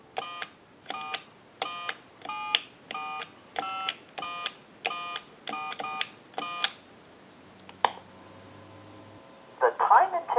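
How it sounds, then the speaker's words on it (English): A Stromberg Carlson wood wall telephone dialing a time-and-temperature number, with about eleven evenly spaced tone bursts in a quick rhythm. Ringback and then a recorded voice follow in the line. "And we'll dial that number."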